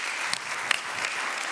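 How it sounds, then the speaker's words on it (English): A final round of applause from a conference audience for a panel of experts, fairly soft and even, with a few sharper claps standing out. "Can I have a last round of applause for our experts?"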